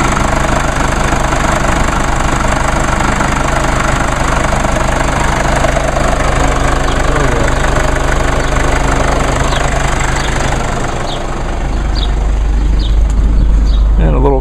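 A diesel car engine idling close by, a loud, steady knocking rumble that continues evenly throughout.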